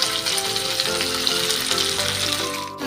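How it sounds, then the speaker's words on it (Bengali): Hilsa fish heads frying crisp in hot oil give a brief, steady, close crackling sizzle. Background music plays faintly underneath. "ভালো করে ইলিশ মাছের মাথাগুলো ভেজে নেব।"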